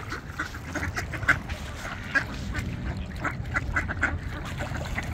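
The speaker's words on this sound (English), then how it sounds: "We're surrounded by a sea of ducks." A large flock of ducks at a Green Lake duck sanctuary keeps up a dense, continuous chorus of overlapping quacks and honks, some calls close and sharp against a busy outdoor murmur, with no talking.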